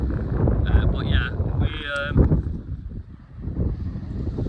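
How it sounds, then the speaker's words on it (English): Strong gusts batter a tripod-mounted camera outdoors while bass fishing in north Wales, roaring and buffeting the microphone in uneven surges, with someone talking over the noise. "That wind's mayhem now."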